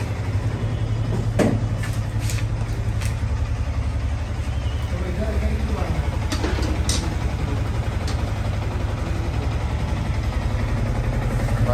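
A Yamaha R15 V3 motorcycle with an engine sound problem idles steadily, a continuous low rumbling drone that holds even throughout, with a few brief sharper background noises on top.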